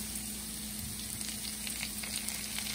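Artichokes frying with garlic in hot oil in a pan, a steady close sizzle and crackle hissing evenly throughout with no talk.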